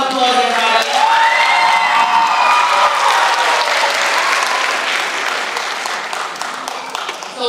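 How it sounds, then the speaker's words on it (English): An audience applauds a high school student orchestra at an arts school performance, sustained loud clapping with cheers and whoops that fades slightly toward the end, voices rising over the crowd early on. "Let's give them a round of applause, everybody."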